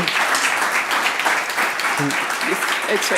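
Audience applause after a presentation on artificial intelligence, steady and fairly loud clapping from a crowd filling the whole stretch, with a brief voice toward the end.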